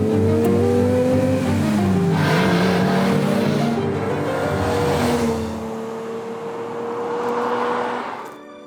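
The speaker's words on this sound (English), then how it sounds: "Here it is, the Ferrari 365 GTB4, better known as the Daytona" A Ferrari 365 GTB4 Daytona with a V12 engine drives by, its engine note rising and shifting in pitch as it accelerates, loud and close before fading away at the end.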